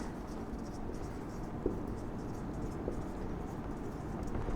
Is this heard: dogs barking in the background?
no